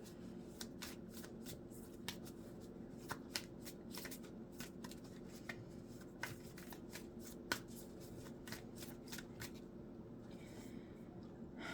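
Oracle cards are shuffled, handled and laid out in piles, giving crisp repeated flicks and riffles with soft slaps of cards set down, close and quiet over faint background hum.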